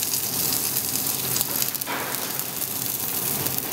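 Foie gras sizzles in a hot pan as it is flipped, a steady loud crackling hiss that continues throughout, with a brief surge partway through.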